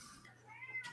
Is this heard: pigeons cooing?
no